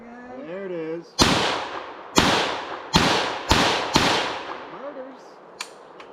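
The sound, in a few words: FN PS90 rifle firing until the magazine is empty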